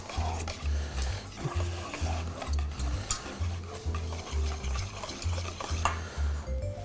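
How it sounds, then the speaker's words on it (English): Mayonnaise and buttermilk whisked together for a sauce, a steady rhythmic scraping and stirring of the whisk in a bowl, close and fairly loud, repeating in even strokes without speech. "Kind of whisk as we go."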